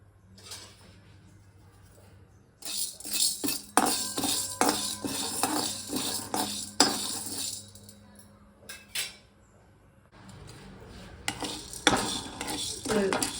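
Urad dal and chana dal roast in a pan with repeated scraping and clattering of a metal spoon against the pan, coming in busy bursts with quieter pauses between.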